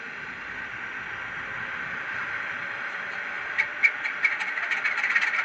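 A Graham Farish Class 47/4 model diesel locomotive's DCC sound module runs its normal startup, a steady small-speaker engine hum with rattling clicks building near the end, heard close.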